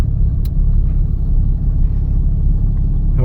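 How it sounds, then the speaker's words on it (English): A 2015 Ram 2500 4x4 diesel truck in four-wheel drive spins its front tires with a loud, close, steady low engine rumble for a few seconds. "Spun the front tires and rolled coal."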